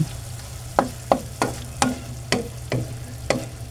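Pork igado with liver, oyster sauce and seasoning being stirred in a pan: about seven distinct scraping clacks of a utensil at roughly half-second intervals, over a steady low sizzle of frying, close and fairly loud.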